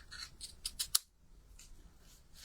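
Scissors snip card paper in a few quick, close cuts followed by a sharp final snap, then quiet handling of the paper in a card-making setup.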